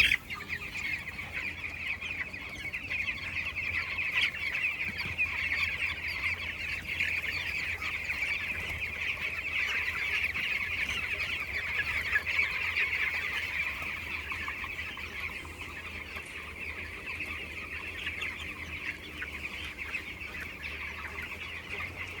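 A crowd of chickens clucking and murmuring continuously on a poultry farm, a dense steady chorus at moderate distance, no voices.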